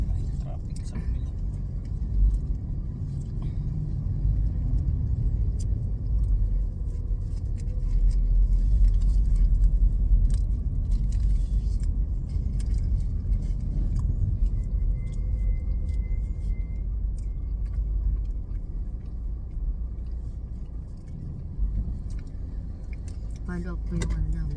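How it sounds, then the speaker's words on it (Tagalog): Road traffic passes on the far side of a street near a condominium residence: a continuous low rumble of cars that swells and eases without a break, with faint jangling and some voices now and then. "May traffic sa kabila."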